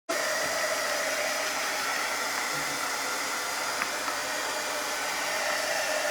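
A hair dryer blows steadily on a freshly made craft sign reading Coffee and Co, a constant close airy roar that starts abruptly and holds evenly throughout with no talk.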